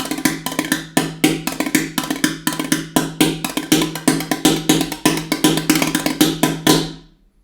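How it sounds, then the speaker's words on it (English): Cajon snare struck with bamboo sticks in a steady, fast rhythm of crisp, soft-edged taps with a low woody body, played alone and close for about seven seconds before ringing out. "We use sticks made out of bamboo, and they make a nice soft sound on it."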